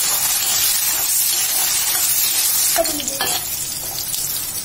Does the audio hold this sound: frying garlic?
yes